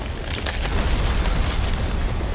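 A loud, sustained rumbling explosion as the Mother Crystal is destroyed in Final Fantasy 16, a dense roar that holds steady for the whole stretch with no pauses.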